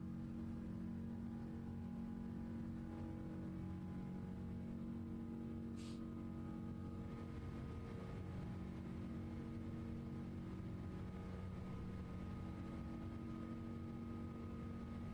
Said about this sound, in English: It's the Rolls-Royce engines, man.